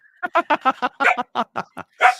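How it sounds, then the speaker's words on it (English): A dog barks roughly ten times in quick succession, sharp and close with short yips, and the last bark is drawn out. "he's barking at the same time"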